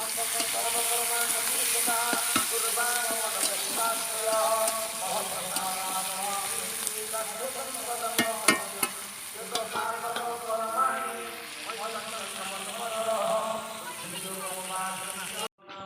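Onions fry in oil for a cabbage dish, a constant close sizzle with stirring scrapes and occasional clicks, while people talk over it throughout.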